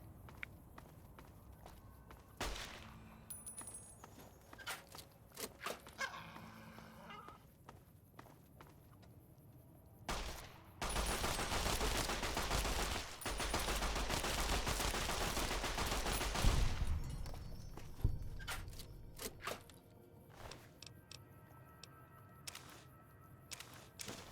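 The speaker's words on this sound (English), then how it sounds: "This is the Cyberdog gun." Cyberdog gun firing in Fallout New Vegas: scattered sharp cracks and clicks, then a dense roaring burst of rapid fire lasting several seconds before it trails back into sparse hits.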